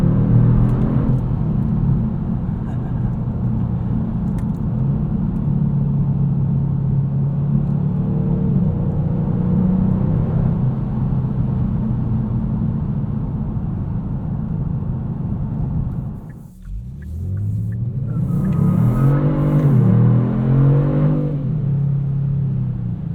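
A 2022 Kia Stinger GT2 AWD V6 drives in sport mode with a steady, loud engine drone and road rumble inside the cabin, dipping briefly before revving back up with rising acceleration.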